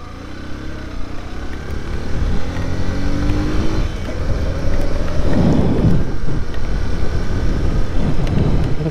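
Steady rain hisses over a low, rumbling background on the road from Batticaloa to Arugam Bay, Sri Lanka, with a passing engine-like swell midway; no voices.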